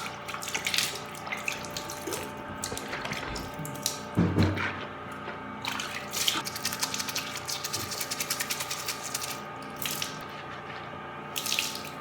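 Tap water runs into a sink to rinse the mouth after the tongue is brushed, a steady close splashing stream broken by a few louder sloshes and drips.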